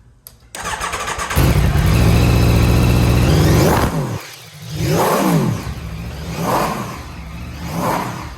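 A limited-edition 2024 Aprilia RSV4 Factory's V4 engine cranks and fires, settles into a loud, close idle, then is blipped through several sharp throttle revs that rise and fall, with no speech.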